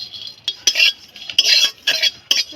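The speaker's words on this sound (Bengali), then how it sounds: "জিরেটাও ফটফট করে ফাটতে শুরু করেছে" Whole cumin seeds dry-roasting in a wok, with sharp, crackly bursts of scraping and sizzling in quick irregular pulses, close by and fairly bright.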